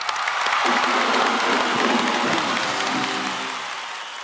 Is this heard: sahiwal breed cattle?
no